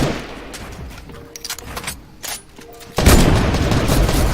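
Gunfire in a shooting video game: scattered bursts of shots and impacts, then a sudden loud sustained barrage in the last second or so.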